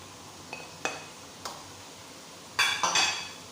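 A spoon scrapes and clinks against a pan as shredded cabbage is mixed in, a few sharp isolated knocks followed by a busier cluster of scraping stirs near the end, with no talking.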